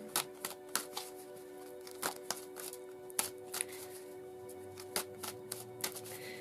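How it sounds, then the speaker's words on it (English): Oracle cards are shuffled and drawn by hand, a series of crisp, close riffling snaps and taps arriving irregularly over a faint steady hum, with no talking. "we'll draw the oracle and see what the oracle says"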